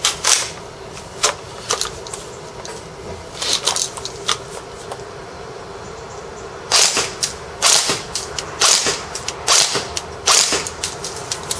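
Marui SOPMOD airsoft rifle fires in short full-auto bursts, sharp rapid clattering mechanical cracks separated by pauses, close to the microphone, with quiet room noise in between.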